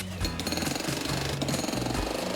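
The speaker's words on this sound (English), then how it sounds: "the rest of the team get to work drilling out the old patio foundations" A jackhammer breaks up old patio foundations in a UK garden, a loud, continuous rapid pounding close by with no pauses.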